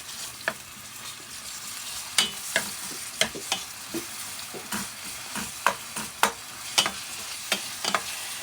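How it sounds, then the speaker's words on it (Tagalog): Onion and garlic sautéing in a pan, a continuous bright sizzle broken by frequent sharp scrapes and taps of the spatula at an uneven rhythm, close and fairly loud, with no voices. "So, gisa-gisa natin yan. Yung sibuyas at bawang."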